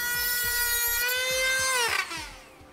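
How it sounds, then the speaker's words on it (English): A 5/16 inch socket or bit driver tightens a clamp around a trailer hitch during an air helper spring install on a 2014 Nissan, giving a steady high power-tool whine with repeated low ratcheting pulses that winds down near the end. "we're gonna use a 5/16 inch socket or bit driver to secure that clamp around our hitch."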